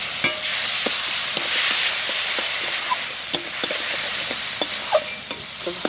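Ginger-garlic paste and spices frying in a pan, a steady close sizzle with scattered pops and spatter and the scrape of stirring, no talk over it.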